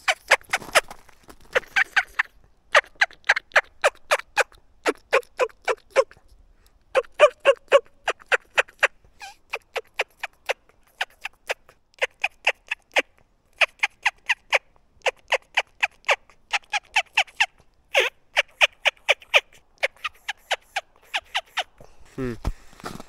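A Bone Collector turkey call imitates a gobbling and clucking turkey outdoors in a forest, in repeated loud bursts of rapid yelps separated by short pauses, close to the listener and with no talking.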